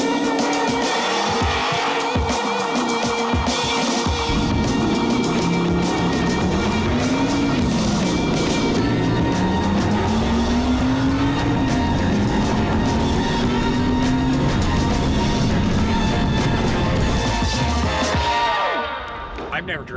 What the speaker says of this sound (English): We finally figured out launch control on the Audi, and that little 4-banger's holding its own pretty good